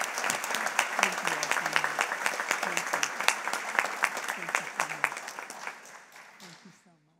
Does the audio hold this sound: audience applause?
yes